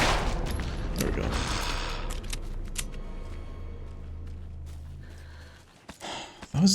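Gunfire in the video game Alan Wake II, a dense volley of sharp shots in the first seconds, then a quieter stretch with a low hum before a few louder thumps at the end.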